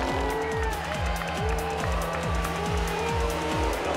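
Vintage Ferrari and Talbot race cars roar past one after another in a close series of engine sweeps, each falling in pitch as it goes by, over steady track noise with no talk.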